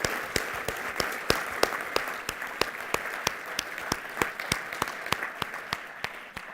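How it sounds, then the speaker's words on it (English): A conference audience gives a round of applause, a thin sparse clapping spread across the hall, punctuated by sharp individual claps at a steady pace with no voices. "So please, big round of applause for all of our sponsors."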